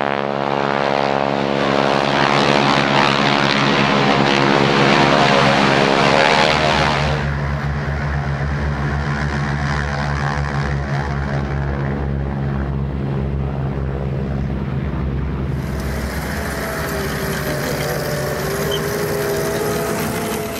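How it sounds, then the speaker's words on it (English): WWII German, French and Italian propeller aircraft taking off at an airshow reenactment, a loud sustained droning engine roar that shifts tone midway as the planes climb away. "a small group of German, French and Italian aircraft get airborne"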